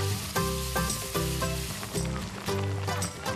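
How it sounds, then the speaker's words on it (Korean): Chopped, cleaned snake meat stir-frying in a pot gives a steady, dense sizzle that runs through the whole stretch, mixed with tonal, music-like sounds and repeated soft hits. "손질과 세척을 끝낸 후 적당한 크기로 썰어 냄비에 넣고 볶아주는데요."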